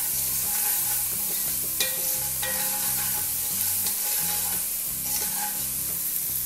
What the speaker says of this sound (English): And this onion is gonna brown a little bit in here.